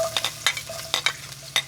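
A spatula scrapes and taps in a pan while pancit fries and sizzles, with quick irregular stirring strokes over a low, steady crackle.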